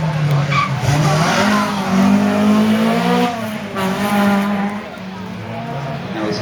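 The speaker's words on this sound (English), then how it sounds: "Now we're seeing more trophy rally cars coming through." Trophy rally cars at the Brean Stages Rally 2015 pass close by on a stage, engines roaring loudly with rising and falling revs and some tyre noise, one after another.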